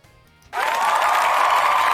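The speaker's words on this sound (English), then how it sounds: "Give Pikachu a round of applause." Sudden burst of crowd applause in a Pokémon Scarlet video game starts after a brief quiet moment and continues as a dense, steady clapping roar.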